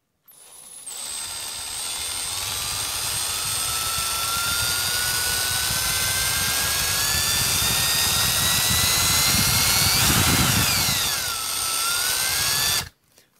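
A Milwaukee 0435-1 3/8-inch 12-volt cordless drill runs steadily for about twelve seconds, a loud close whine with motor pitch shifting up and down before it stops abruptly.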